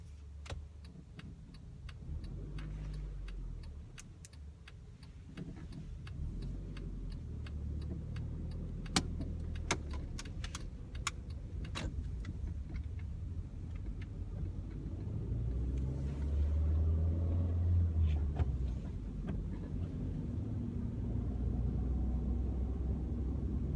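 Car driving along a road during a driving test near Central Milton Keynes, with a steady low road rumble and engine hum throughout and occasional faint clicks, at a fairly quiet level and without talk.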